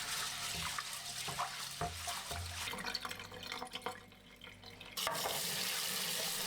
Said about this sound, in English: For this, wash it twice to remove impurities.